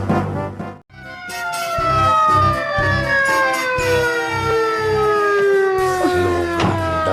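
A police siren wails loudly and nearby, its long sweeping tones gliding downward over a rhythmic pulsing horn, sustained without pause and no voices.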